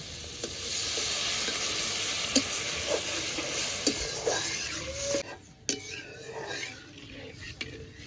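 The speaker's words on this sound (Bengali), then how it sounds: "অল্প একটু হলুদ গুঁড়ো এবার ভালো করে ভেজে নেব" Ash gourd pieces with a little turmeric powder fry in a pan, giving a steady hiss and sizzle with scattered stirring scrapes. The sizzle thins out toward the end.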